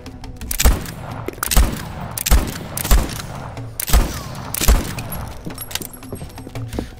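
Gunfire in the video game Voidtrain: six or seven loud, sharp shots spaced irregularly about a second apart, each with a short booming tail over low background noise.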